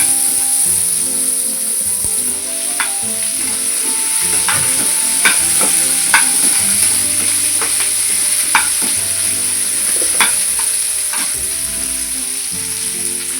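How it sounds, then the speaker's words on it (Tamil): Small shallots sauté in oil in a pan for a Kerala ulli theeyal, crackling steadily with a loud continuous sizzle, interrupted by occasional sharp pops and the scrape of stirring. "அப்புறம் சின்ன வெங்காயம் போட்டு நல்லா வதக்கணும்."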